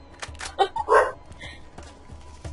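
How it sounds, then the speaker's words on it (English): A dog barks in the Borderlands video game, a short cluster of three or four loud, close barks early on, followed by softer game noise and faint thumps. "There's the dog."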